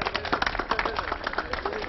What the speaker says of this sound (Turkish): Arkadaşımızı alkışlayalım.